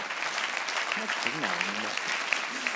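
Audience clapping along at a comedy show, a steady dense patter of hands with a voice speaking and sliding in pitch over it throughout.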